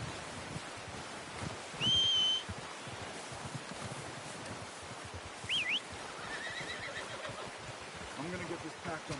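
A horse whinnies twice in Red Dead Redemption 2, brief high neighs over a soft bed of ambient outdoor noise, with a faint whistle-like call and quiet rustling around them.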